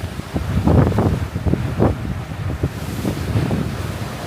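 Strong wind buffets the microphone at sea near Caribbean islands, loud gusty rumbling and roaring in uneven pulses with waves washing beneath.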